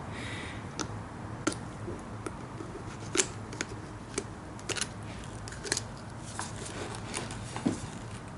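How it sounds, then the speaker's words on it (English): Quiet snipping and crunching cuts at irregular intervals, sharp clicks of scissors working through an old rubber CV joint boot on a Hummer H3 front driveshaft, over a soft background hiss. "Now you just take a razor or scissors or something and cut the old boot out to gain access."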